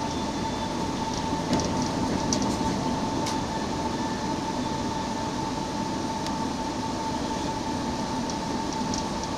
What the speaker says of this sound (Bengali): ওই দেখ, Howrah Joynagar passenger overtaking double decker